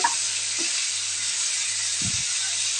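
A vegetable rice mixture for vangi bath frying in a pan gives a steady close hiss and sizzle, with a few soft stirring scrapes and a brief thump near the end.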